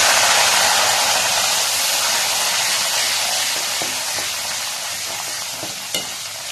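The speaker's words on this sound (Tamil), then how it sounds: "இது மாதிரி கருவேப்பிலையும் நல்லா பொரிச்சு எடுத்துக்கலாம்" Curry leaves fry in hot oil for a beef sambal, making a loud, continuous sizzling hiss up close. The sizzle fades slightly over time, with a few sharp pops near the end.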